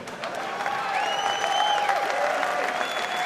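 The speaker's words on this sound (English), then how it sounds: "You don't see the women applauding on that." Stand-up comedy crowd at a 1993 show breaks into sustained applause, a broad steady wash of clapping with a few tonal glides and some crowd noise mixed in.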